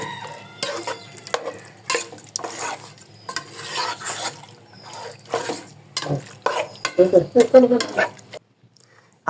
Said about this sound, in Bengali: এবার মাংসটা কষাই নিতে হবে